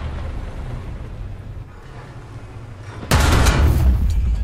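A tank in War Thunder, a leKPz M41, fires its cannon with a sudden loud blast and explosion that cuts in after a low engine rumble, then a heavy roar that stays loud to the end.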